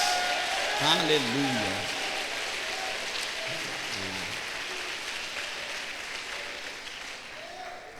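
Congregation in a church applauds while someone calls out over it, the clapping spreading into a broad, sustained wash that slowly fades toward the end.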